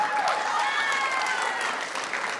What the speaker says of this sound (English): Can I get an applause for the shoes?